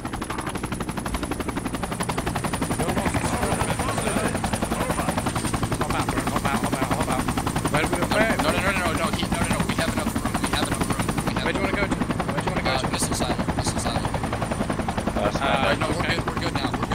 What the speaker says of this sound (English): Everyone else get in the chopper.